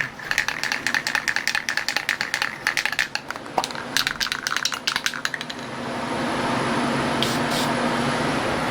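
A spray can is shaken rapidly, the mixing ball rattling in quick bursts for several seconds before a steady hiss of spraying begins.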